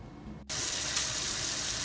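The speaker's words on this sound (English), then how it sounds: "I know hearing the water is a little annoying" Hot water runs from a kitchen tap over cut plantains, a steady loud gush of water that starts suddenly and continues alone.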